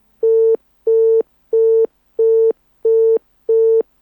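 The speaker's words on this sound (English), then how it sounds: "We'll raise John on the phone lines again" Telephone busy signal on a dropped phone-in call to a radio talk show, six evenly spaced steady tones switching on and off in a regular rhythm, loud and clear with no voices.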